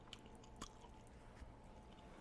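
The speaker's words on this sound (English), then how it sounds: "The sound you heard was me eating scrambled eggs." Scrambled eggs are eaten close to the microphone, making quiet, soft, wet chewing and squishy bites with a couple of slightly sharper crunchy moments.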